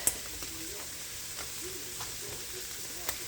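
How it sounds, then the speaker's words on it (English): Barbecue sauce added to softened onions sizzles in a pan, a quiet steady hiss with faint clicks and stirring taps, while a voice murmurs faintly underneath. "I'm going to start adding my barbecue sauce"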